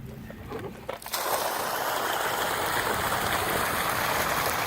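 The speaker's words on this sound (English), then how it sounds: "Now, we are lifting this water up" An outdoor sump pump in a basin with a cast iron lid lifts water out toward a waterway, giving a steady, loud rushing wash of flowing water that swells in after a second and holds without break.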